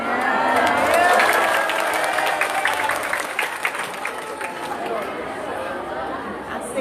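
An audience at an Islamic religious lecture in Hong Kong claps together, a dense wash of applause that swells early and slowly thins, with crowd chatter underneath.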